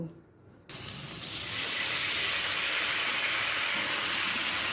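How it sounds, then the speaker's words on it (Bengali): Water pours steadily into a tamarind and jaggery mixture in a cooking pot, a sudden broadband rush starting after a brief quiet moment and continuing evenly, close and fairly loud. "আরও একটু জল দিয়ে দিলাম"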